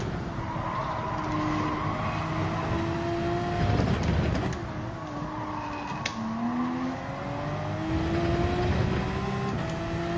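A Porsche Cup race car at Road Atlanta in Gran Turismo 7 howls along with a steady engine tone that rises and shifts through gears, with tires squealing through corners, loud and continuous.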